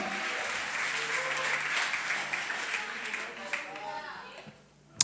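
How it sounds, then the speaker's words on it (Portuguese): A church congregation applauds during a Portuguese-language evening worship service, a steady mid-level wash of clapping that fades toward the end and is broken by a sharp knock. "aplauda o Senhor, porque Ele é poderoso"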